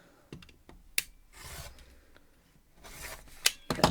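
Quilt fabric is trimmed along the diagonal for a Double X quilt block, heard as close, quiet rubbing and scraping with a few sharp clicks, all with no talk.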